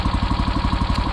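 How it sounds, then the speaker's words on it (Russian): A warmed-up engine of a motorized snow tow unit, pulling a drag sled out on a frozen forest lake, idles with a steady, rapid chugging pulse, close and loud, with no talk. "Двигатель прогрелся."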